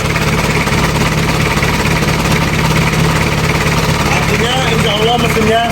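A 1994 Isuzu Panther Hi-Grade engine runs at a steady idle, a continuous low rumble with constant vibration throughout, heard close by while someone talks over it.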